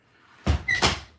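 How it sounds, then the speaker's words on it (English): A house door is opened to step outside, giving a soft knock and latch click followed by a brief squeak and a second bump, close and fairly quiet, with no talking. "Just go out this door."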